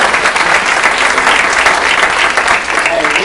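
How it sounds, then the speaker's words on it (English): Brisk, dense applause from an audience at a real estate meeting, loud and close, continuing steadily throughout without any talking. "so give Greg a round of applause"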